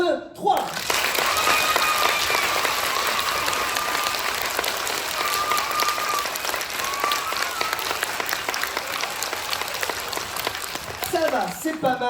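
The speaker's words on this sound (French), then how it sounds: "vous allez me faire l'applaudissement le plus magique qui soit." Audience applause at a magic show, a long sustained wave of loud, dense clapping from a crowd that stays steady for about twelve seconds before fading, with a few voices mixed in.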